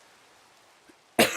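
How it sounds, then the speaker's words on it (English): A single close, sharp cough bursts out after a second of near silence. "my cough's not getting any better when I do that"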